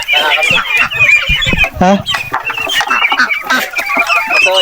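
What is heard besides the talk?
guinea fowl calling noisily on a farm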